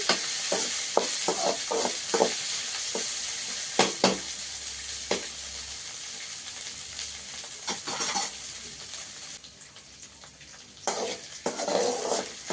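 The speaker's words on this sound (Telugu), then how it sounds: "ఈ బెండకాయలు మాడకుండా దూరంగా ఇలాగే సిమ్లోనే బాగా ఉడకనివ్వాలి." Okra frying in oil over a low flame, a steady sizzle broken by repeated scrapes and stirring clatters from a spoon against the pan, close and fairly loud, with no voices.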